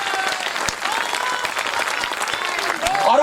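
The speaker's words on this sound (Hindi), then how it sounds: "मुझे तालियां और थोड़ी तेज चाहिए" An audience claps without pause through a poetry recital in Kharial Road, Odisha, producing dense, loud, even applause that swells slightly near the end, with faint crowd voices underneath.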